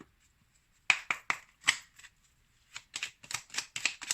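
Oracle cards being shuffled and handled up close, with irregular papery flicks and riffling bursts that come in quick clusters after a quiet start.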